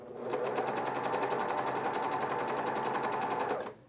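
Sewing machine stitching a camisole on a coverstitch or serger, running at steady high speed with a rapid, even needle rhythm for nearly four seconds, close and alone with no talking.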